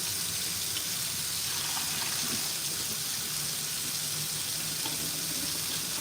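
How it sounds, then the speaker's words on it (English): Cool tap water runs steadily into a kitchen sink while raw chicken is rinsed for Filipino adobo, a continuous close splashing flow with no talk. "And I like to just rinse with cool water."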